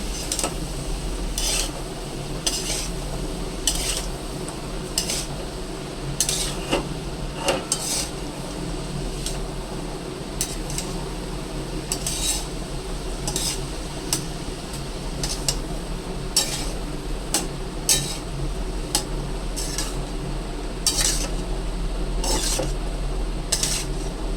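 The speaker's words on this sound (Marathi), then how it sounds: "व्यवस्थित मिक्स करून घ्यायचं सर्व भाज्यांना मसाला व्यवस्थित लागला पाहिजे" Metal spoon scraping and clinking against a pot while mixed vegetables are stirred with masala for veg Kolhapuri, repeated irregular clanks and scrapes over a low steady hum, close and continuous.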